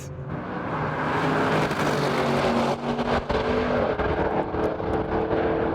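A powerful Audi RS7 or BMW M850i engine roars loudly and steadily during a hard launch-control drag race start, the revs climbing through gear changes, close and continuous.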